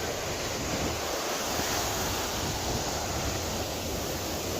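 Waves washing in at a shore on a rainy day, a continuous broad rush of surf with wind noise buffeting the microphone, steady and fairly close, without talk.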